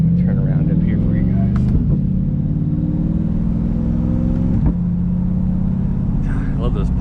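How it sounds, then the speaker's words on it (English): A Corvette C8 fitted with a Hooker Holley exhaust, driven on an evening road, rumbles steadily with rising revs and quick pops on each upshift, loud and close throughout. "I love those pops you get when you upshift."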